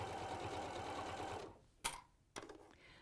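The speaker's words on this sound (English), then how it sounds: "I have lengthened my stitch because I'm going through quite a few layers now." A sewing machine stitching through several layers of fabric with a lengthened stitch, running steadily close by for over a second before stopping, followed by two brief clicks with no talk.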